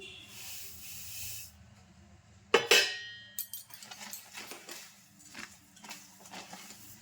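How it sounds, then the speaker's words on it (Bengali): Sesame seeds being stirred into melted jaggery for Makar Sankranti til papdi. A soft hiss and sharp bursts come first, then a run of quiet, uneven scraping and stirring strokes close by. "তিলগুলো দিয়ে খুব ভালোভাবে আমি গুড়টার সাথে মিক্স করে নিচ্ছি"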